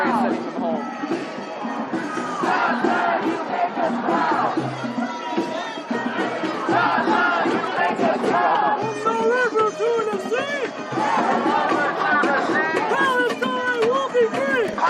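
Crowd of protesters shouting and chanting amid a loud babble of overlapping voices, with footsteps and movement nearby as people walk through the dense, noisy gathering.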